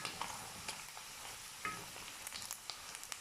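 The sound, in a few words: gizzard frying in a pan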